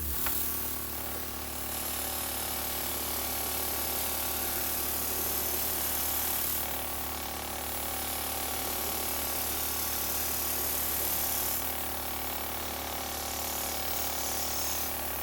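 A 12 volt airbrush makeup system on its stronger setting, its compressor whirring in a steady mechanical drone with rattling, ratchet-like buzz and hiss of air that swells in brief surges, close and continuous.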